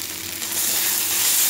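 Ground spices (coriander, chili powder, turmeric and salt) frying in a pan for shrimp malaikari, a steady broad sizzle that swells louder after the first half-second and holds, close up with no talking.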